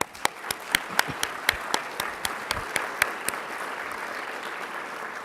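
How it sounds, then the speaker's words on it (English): Scattered applause from a forum audience at a university event opens with sharp, distinct individual claps near the microphone, then blends into softer, sustained clapping that fades toward the end. "we want to applaud them for their contribution"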